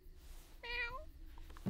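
A single short, rising-and-falling kitten meow, fairly faint, heard over a low background hum with no talking.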